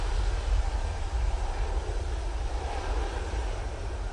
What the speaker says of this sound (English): That's the party plane off to Ibiza.